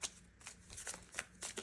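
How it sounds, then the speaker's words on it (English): Tarot cards being shuffled by hand in a few quick riffling bursts, close and soft, with brief pauses between them. "Shuffle a little bit"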